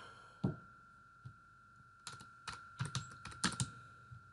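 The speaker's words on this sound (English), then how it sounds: "So I'm going to type total education" A variable name is typed on a computer keyboard: a few isolated key presses, then a quick irregular burst of clicking keystrokes, close and clear with no voices.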